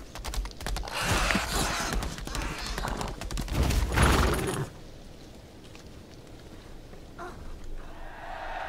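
Galloping hoofbeats from a horse in the Lost Ark video game pound loud and dense for about four seconds, then drop away abruptly to a quieter background, with a voice speaking in places.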